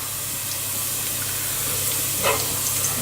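Onions dropped into hot oil with garlic cloves in a pan, a steady sizzling hiss with a brief louder spatter near the end, heard alone.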